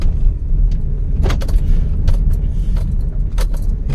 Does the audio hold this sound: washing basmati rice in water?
no